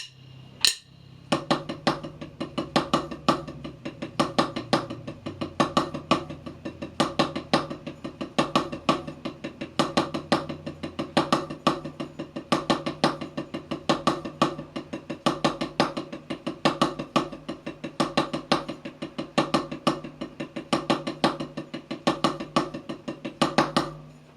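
A drum plays a triple paradiddle without accents, a fast, even stream of unaccented strokes that continues steadily for over twenty seconds, fairly quiet and without pauses.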